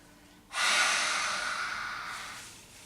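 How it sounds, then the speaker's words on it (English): One slow, deep breath through the nose during a Pilates flow, quiet and close, rising sharply and then fading gradually over a couple of seconds, with no talk over it. "Deep breath in, and deep breath out"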